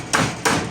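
Hammer strikes driving staples into the screen of a DIY rat breeding rack, two sharp close blows about a third of a second apart with no talking.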